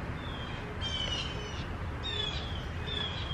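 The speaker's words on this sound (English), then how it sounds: "sit on my front porch in the morning and listen to the birds" Morning birdsong outside a front porch, several thin, clear whistled calls and chirps repeating at a moderate distance over a steady low background rumble, with no talking.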